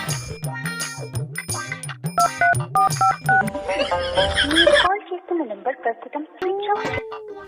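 Telephone keypad tones beep in a quick irregular series of short dialing blips, followed by voices and other noises.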